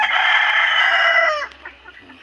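A young rooster, a stag, crows once in a backyard, loud and close. The strained, rising call holds for over a second and then breaks off, and some faint clucking follows.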